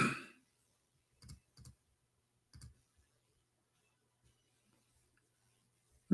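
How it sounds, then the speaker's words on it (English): Sparse keystrokes on a computer keyboard come in a few short clusters of clicks, then trail off into near silence in a quiet room. "Let me type it for you on the screen."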